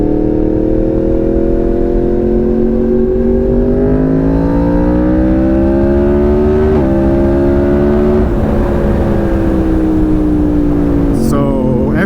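A Yamaha MT-10 motorcycle engine revs loud and close, its pitch climbing through steady acceleration in a continuous smooth roar that ends in a brief higher blip.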